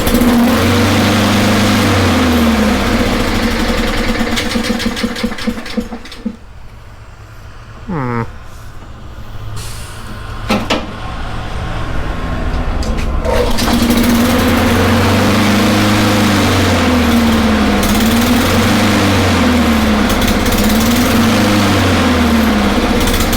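Honda HRR216 walk-behind lawn mower being pulled over on choke, a loud nearby engine drone that dips and rattles briefly, then surges back into steady rhythmic running.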